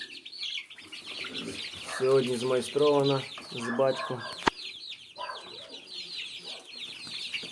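Month-old young chickens chirp and peep steadily in a coop while a person speaks briefly over them; a sharp click cuts through midway.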